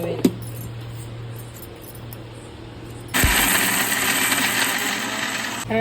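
After a quiet stretch with a faint hum and a single clink, a mixer grinder grinding pirandai (adamant creeper) for chutney suddenly starts up with a loud, steady whirring roar that continues to the end.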